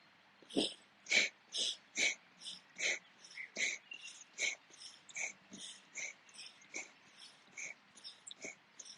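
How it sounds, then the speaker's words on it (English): Breath of fire yoga breathing: rapid, rhythmic forceful nasal exhales about twice per second, close and fairly soft, a steady series of around twenty puffs with no talking. "you're going to do the breath of fire again"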